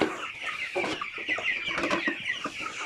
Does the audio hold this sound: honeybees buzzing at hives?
no